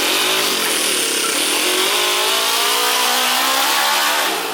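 A Toyan manual-gearbox RC crawler drives off across the ground, its small engine giving a steady, high buzzing whine with a throaty undertone, loud and continuous before easing at the end.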